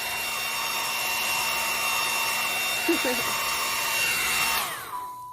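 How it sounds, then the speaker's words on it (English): A blow dryer whirs steadily with a high, constant hum, then switches off near the end and winds down, leaving quiet. "I like using the blow dryer too."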